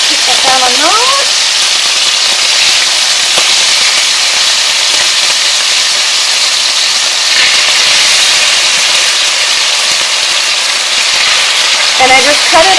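Marinated flank steak pieces for a teriyaki beef stir-fry fry in a very hot pan, giving a loud, continuous, dense sizzle that holds steady throughout, with brief faint voices near the start and end.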